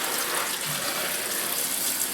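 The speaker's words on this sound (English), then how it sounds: "I'm running cool water" Cool water runs steadily from a kitchen tap into a sink, a continuous close splashing hiss with no talking over it.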